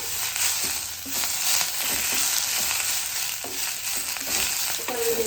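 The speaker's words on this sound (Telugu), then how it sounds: "ఆ ఆయిల్లోనే కరివేపాకు కూడా మంచిగా తడి లేకోకుండా ఫ్రై అయింది" Washed curry leaves frying in hot oil left over from frying green chillies, making a continuous, close, crackling sizzle with light stirring scrapes and no voices.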